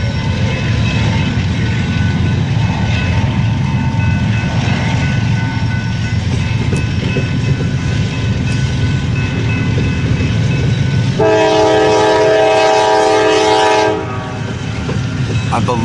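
CSX freight train with foreign power leading, rolling through a rail yard, a loud continuous rumble and clatter of cars, followed near the end by a blast of the horn.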